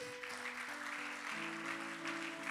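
A church congregation applauds steadily throughout, the clapping blended with sustained organ or keyboard chords in a reverberant hall.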